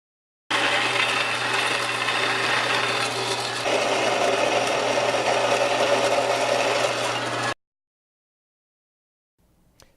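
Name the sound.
belt sander grinding an aluminum sword blade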